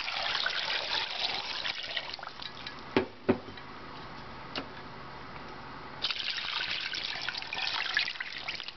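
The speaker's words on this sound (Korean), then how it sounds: "이거를 다시 찬물에다가 부어서 다시 끓일 거예요." Cold water poured over beef short ribs in a pot, a steady trickling, splashing pour that pauses for a few seconds with a couple of soft knocks before the flow resumes.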